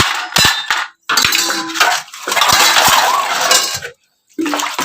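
Dishes and pots clatter loudly while being washed in a village home, with steel utensils clanking and scraping in busy bursts, close up, broken by brief pauses.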